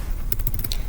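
A command is typed on a computer keyboard in a quick cluster of several light key clicks over less than a second, close and clear against a low background hum.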